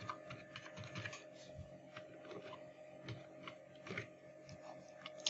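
Password typed on a computer keyboard, a quick run of soft, close key taps in uneven bursts over faint room hum, with no talking.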